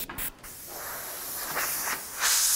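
A freehand airbrush spraying paint gives a continuous close hiss of compressed air, briefly interrupted by two short stops near the start and then swelling louder toward the end.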